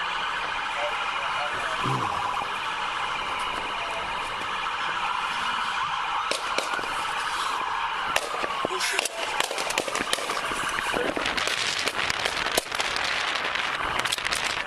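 Sharp, cracking gunshots in a recording from Mexico come in quick irregular volleys over a constant wail of sirens and a noisy outdoor scene, loud and dense through the second half.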